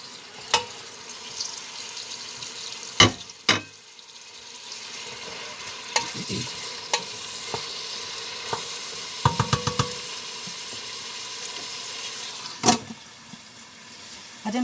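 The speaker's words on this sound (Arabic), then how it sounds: "وغادي ندير الكبده باش نقليهم شويه." Beef liver sizzles steadily in a pan for a tagine while a utensil stirs it, with scattered scraping clicks and knocks over the continuous frying hiss.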